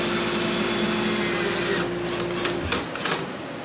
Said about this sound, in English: The pilot screw drill that I'm using isn't real large in diameter